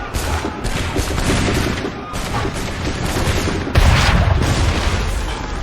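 Gunfire in Assassin's Creed III as a battle against redcoats rages, with repeated loud musket shots, a volley and booms running on throughout, one heavier blast near the end.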